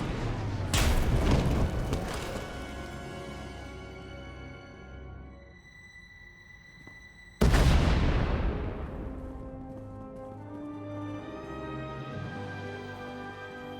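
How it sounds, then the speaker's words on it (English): Two heavy, booming explosions in Star Wars: The Old Republic – Knights of the Eternal Throne as a tunnel collapses, one at the start and another midway, each roaring loudly and then fading into a rumbling tail. "We heard explosions. The tunnel collapsed."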